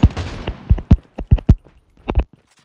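Rapid bursts of gunfire in the mobile shooter game Call of Duty Mobile, several sharp cracks in quick uneven clusters, loud and close with brief gaps between volleys.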